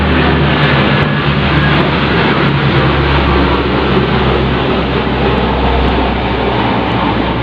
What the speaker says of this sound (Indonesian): Sebentar ada pesawat lewat.